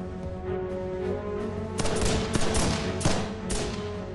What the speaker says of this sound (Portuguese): Atirando com suas armas e lançando granadas de mão